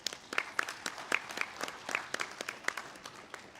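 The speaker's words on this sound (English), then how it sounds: "Please give them a huge round of applause." A modest audience at the India Mushroom Summit 2023 claps for a few seconds, the individual claps distinct and uneven rather than a thick roar, heard alone and fairly close.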